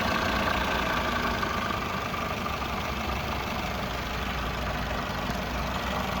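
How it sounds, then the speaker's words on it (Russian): A 2004 Toyota Vitz 1SZ-FE contract engine idles smoothly and steadily, a constant close-up hum with no speech. "Двигатель работает ровно."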